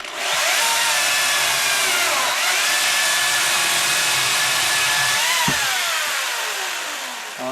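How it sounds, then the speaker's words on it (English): A chainsaw or power saw cuts the end off a shiitake mushroom log, the motor whining steadily and loudly with a couple of pitch dips as the blade bites through the wood, alone without talk. "So I'm going to cut that one off."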